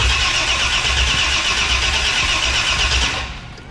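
A 1969 Ford Mustang Mach 1 engine cranked over on the starter with the coil wire unplugged to prime oil, giving a loud, steady grinding churn that runs for about three seconds and then cuts off.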